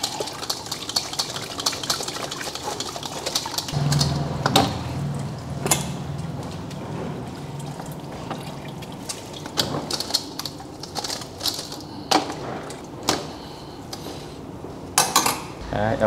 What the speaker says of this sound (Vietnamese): Cái này vào để đánh cà chua.